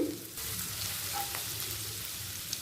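Chopped garlic and ginger frying in a pan for chilli paneer, a steady close sizzle with light stirring, continuous and alone without talking.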